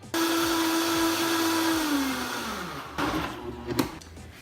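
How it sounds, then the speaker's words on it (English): A blender blending refined coconut oil for vegan cheese whirs loudly at high speed, its motor pitch dropping as the load changes, then it stops and starts again in short bursts. "Give this a good blend."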